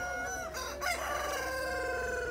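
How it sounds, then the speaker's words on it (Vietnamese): On a poultry farm, a rooster crows in a long, drawn-out call over a continuous background of clucking chickens, at moderate loudness with no talk. "gà đẹp già quá rồi mọi người ạ"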